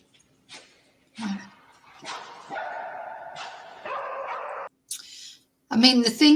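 Search dog reacting in an apartment, a few short barks and yips heard amid people speaking, mixed in with whimper-like sounds.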